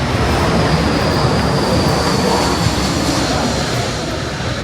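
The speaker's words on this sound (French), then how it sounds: "de notre hôtel, en fait, il y a les avions qui atterrissent" An airplane landing near a hotel on Koh Samui, Thailand, gives a steady, loud, broad jet roar that fades slightly toward the end, with no voices.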